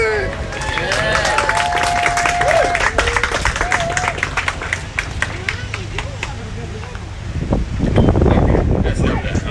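A voice talks over most of it at an outdoor alligator show in Miami, Florida, then the audience's clapping swells into loud, steady applause toward the end, with some wind noise.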